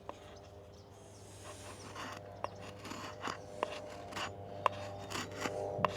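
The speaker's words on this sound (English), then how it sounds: "you can easily go in there and make some fire curls" A knife blade shaving fire curls from a piece of plywood, giving soft repeated rasping scrapes with a few sharper ticks over a steady low hum, close and fairly quiet.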